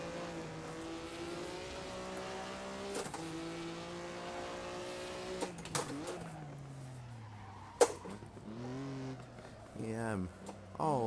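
An old Maserati race car drifting in Assetto Corsa, the engine droning in long harmonic tones that rise and fall with gear changes and revving, with sharp impacts and tire noise, under a man's speech.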